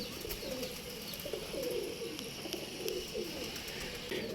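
Pigeons coo repeatedly in low, throaty rolling phrases, close by, with faint rustling and background noise throughout.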